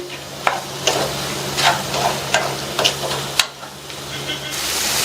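Chopped capsicum and masala powder sautéing in oil, a continuous close sizzle broken by repeated scraping stirs of a spoon against the pan, about a dozen strokes over several seconds.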